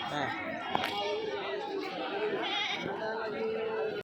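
At a weekly livestock market in Kadiri, goats bleat here and there through the steady chatter of a crowd, with traders talking close by.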